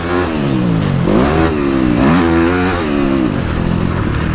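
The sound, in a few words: dirt bike engine revving while shifting gears on motocross track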